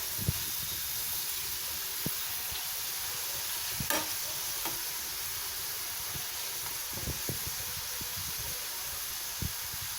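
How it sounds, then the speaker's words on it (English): Button mushrooms fry in butter, a steady, close hissing sizzle that runs for several seconds, with scattered light taps and scrapes as a spatula stirs them around the pan. "Now just stir the mushroom like this. Just fry it."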